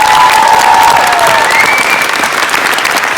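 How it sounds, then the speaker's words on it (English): Loud, dense audience applause at a champion-of-champions event, filling the whole stretch steadily with a faint cheer or whistle rising over it, fading slightly toward the end. "a massive round of applause to every one of you"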